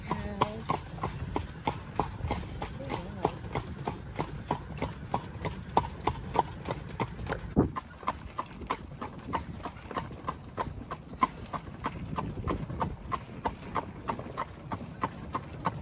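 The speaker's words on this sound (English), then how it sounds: "You hear the horse galloping." A horse pulling a buggy on a road near Shipshewana, Indiana, hooves clip-clopping in a steady even rhythm throughout, close and clear, with a faint hum of rolling wheels underneath.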